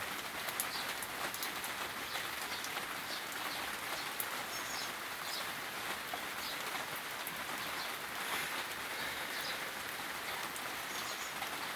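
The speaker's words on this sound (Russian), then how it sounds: "Люблю я дождь." Steady rain pours down outdoors without a break, a dense close hiss of drops on surfaces, with a few faint bird calls in the background and no talking.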